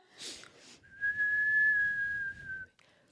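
A person hums and whistles at the same time to imitate wind, giving a single steady, sustained whistled tone of about two seconds after a brief breathy start, close and fairly loud.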